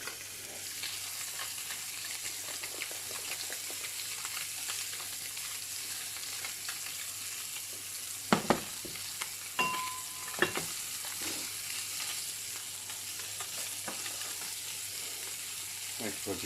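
Fresh-caught cod fillet frying skin-side down in a pan, giving a steady, close sizzle throughout with a few brief clatters of the pan and utensil partway through.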